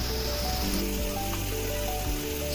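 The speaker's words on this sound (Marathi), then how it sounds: "लसूण टाकून त्याला आता तळून घेते लसूण आपल्याला बारीक आचेवरच तळायचं आहे" Garlic pieces, medium-cut, frying in oil over low heat, giving a steady, continuous soft sizzle with faint crackles throughout, close and even, with no one talking.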